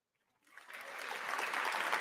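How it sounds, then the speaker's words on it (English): Audience applause during a live sports talk show broadcast, starting after a short silence and building from faint scattered clapping into a steady, fuller round. "Let's give another round of applause for Juan."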